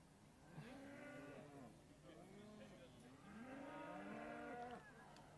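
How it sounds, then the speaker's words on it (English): Hereford cattle, cows with calves and an in-calf heifer, moo at the English National Hereford Show in a few drawn-out, fairly distant calls over a faint, hollow show-ring ambience. "So we have two cows with calves there, followed by a heifer that is in calf"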